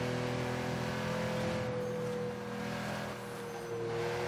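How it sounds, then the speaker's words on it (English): A steady droning Mercedes G-Wagon engine in Forza Horizon 3 hums at a constant pitch with a slight dip and recovery, continuous and fairly loud, no voices. "It just doesn't sound like a naturally aspirated Mercedes for some reason."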